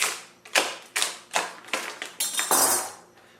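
A standard fillet knife slices through plastic wrap on a Serrano ham, giving a series of sharp crackling, ripping strokes at a roughly even pace, close and fairly loud, with a longer tearing burst near the end.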